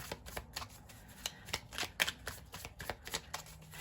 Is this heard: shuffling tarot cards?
yes